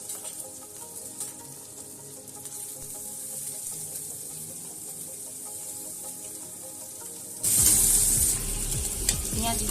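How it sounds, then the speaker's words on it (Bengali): Finely chopped onions and green chillies fry in oil with white cumin, a soft, steady sizzle with faint stirring that suddenly swells into a louder, brighter hiss near the end. "পেঁয়াজগুলো কিন্তু লাল লাল করে ভাজা হবে"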